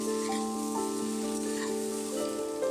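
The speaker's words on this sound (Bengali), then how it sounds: "সবজিগুলোকে মোটামুটি আমি 3-4 মিনিট হালকা হাতে এরকমভাবে ভেজে নিয়েছি।" Vegetables for a Bengali shukto fry gently in a pan, giving a steady, close sizzle that runs unbroken through the whole stretch, with soft background music layered over it.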